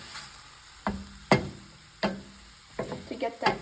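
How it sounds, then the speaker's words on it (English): A spoon stirs and scrapes a salted mushroom fry in a hot pan, several distinct clattering strokes over a soft sizzle. "now let's mix it for a while"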